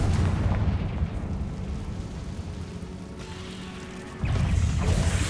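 Confringo blasting spell explosion in the Hogwarts Legacy video game, a heavy rumbling boom that fades over several seconds before a second loud blast hits near the end.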